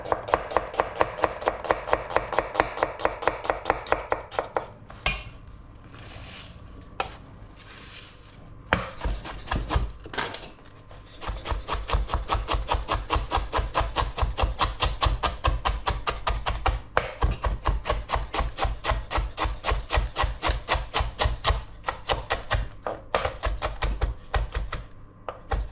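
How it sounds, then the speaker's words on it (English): A knife finely chops onions on a board in rapid, regular close taps, with brief pauses and a scraping shuffle before the fast chopping resumes and continues steadily. "just finely chop the onions for the base"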